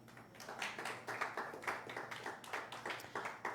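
A church congregation claps for the Lord in steady, rhythmic bursts at moderate volume, the even beat filling the room with no voices on top.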